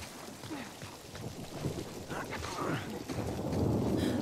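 Stormy weather in The Last of Us Part 2, low rumbling thunder with rain and wind noise, building gradually louder toward the end, heard without clear talk over it.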